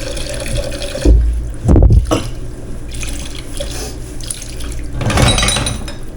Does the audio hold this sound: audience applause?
no